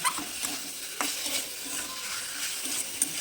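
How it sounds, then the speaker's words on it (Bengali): Small chicken pieces fried with chili powder and chicken masala in a pan: a moderate sizzle with repeated scraping stirs and a few sharp utensil knocks. "এবার দিয়ে দেবো চিকেন মশলার সঙ্গে চিকেনটাকে ভালো করে কষিয়ে নেব"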